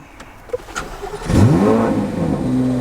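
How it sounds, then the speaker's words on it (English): A 2025 Chevrolet Corvette Z06 engine starting up: a brief starter whir, then the engine catches with a loud rising revving roar that settles into a deep, rumbling idle, close by with no talking. "When you start the car up"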